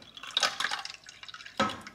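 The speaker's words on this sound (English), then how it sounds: "so I'm gonna pour a cup of ice water" Ice water splashes and drips into a bowl in two short bursts, close and fairly quiet, with a brief pause between them.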